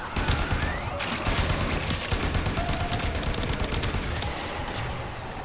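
Rapid, dense automatic gunfire in the video game Warframe, loud and continuous for the whole stretch with no clear speech.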